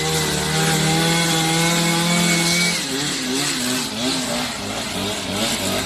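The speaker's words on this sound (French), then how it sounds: "il y a l'autre avec la méga tondeuse" A large lawn mower's loud motor drones steadily outside beneath the windows, its pitch holding level and then wavering as the machine moves, with rough mechanical noise throughout.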